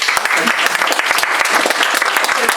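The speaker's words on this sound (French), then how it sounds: "donc si vous pouvez l'applaudir" An audience at a live inauguration event in Paris applauds, a dense spread of claps with many distinct sharp hand strikes standing out, steady and fairly close for the whole stretch.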